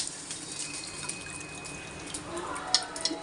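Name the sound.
soaked rice being added to pot with chicken water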